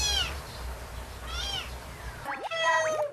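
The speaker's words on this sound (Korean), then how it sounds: "그 와중에 새끼 울음소리를 들은 모양인데요" High, thin cries of a newborn stray kitten repeat a few times, close by, with soft rustling and low rumbling between them.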